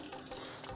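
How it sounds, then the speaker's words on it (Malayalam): Ghee being poured into a hot pan set on the stove for adapradhaman, giving a steady, close sizzle with faint stirring texture throughout a short moment, no voices. "ഞാൻ കുറച്ച് നെയ്യ് ഒഴിച്ച് കൊടുക്കുകയാണ്"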